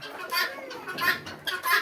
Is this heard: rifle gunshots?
no